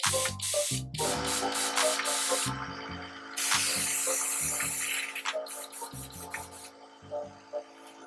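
An airbrush sprays cleaning fluid in several short bursts of hissing spray, some long and some brief, separated by pauses, with light clattering and handling noises between them, close up.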